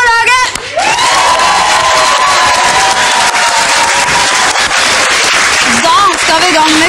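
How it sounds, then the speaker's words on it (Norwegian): A crowd cheers and applauds for the blue team at a Norwegian TV game show, loud and sustained with whoops and a long sung or shouted tone riding over the clapping. "En applaus for det blå laget!"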